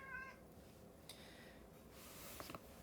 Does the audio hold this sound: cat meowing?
yes